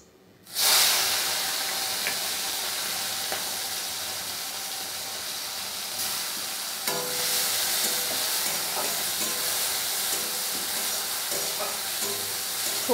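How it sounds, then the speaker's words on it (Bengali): Prawns hit hot mustard oil in a wok, bursting into a loud, steady sizzle that holds close and continuous with a few crackles and clinks of stirring, no talk. "তেলটা আমার গরম হয়ে গেছে, এবারে আমি চিংড়ি মাছটাকে প্রথমে ভেজে নিচ্ছি।"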